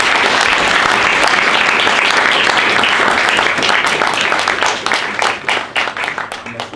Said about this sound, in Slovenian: Pa seveda prosim, že da je en aplavz za spodbudo